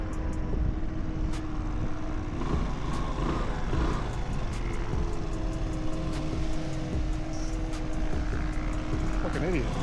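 A Yamaha Vino scooter engine runs steadily while riding along a strip toward top speed, a constant droning hum with wind noise throughout and a brief voice near the end.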